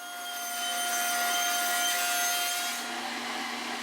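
A table saw rips wooden boards into strips, a loud high whine with a steady tonal hum that swells as the blade bites into the wood and then eases off, with no talking.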